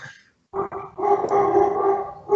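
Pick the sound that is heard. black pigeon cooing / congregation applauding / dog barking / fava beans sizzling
dog barking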